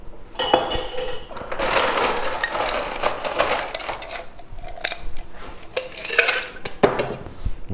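Ice rattles hard in a cocktail shaker as a Jägermeister and coffee drink is shaken, a dense clattering that comes in bursts with brief pauses and some metallic clinks.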